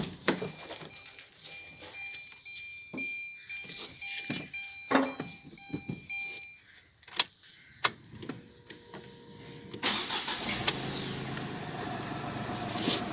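Tata Tiago car engine cranking and catching, preceded by scattered clicks and ticks, then settling into a steady, fairly quiet idle hum in the last few seconds.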